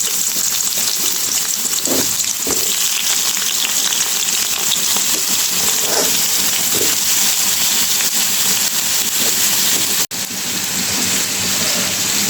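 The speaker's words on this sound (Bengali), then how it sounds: "তো আমি বেগুনগুলো একটু ভেজে নিব, বেগুন আর আলুটা একটু ভেজে নিব মাছের জন্য।" Brinjal and potato pieces fry in hot oil in a pan, a steady dense sizzle running throughout with a few soft clinks and stirs, close and fairly loud.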